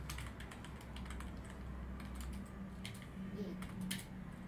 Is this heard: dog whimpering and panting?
no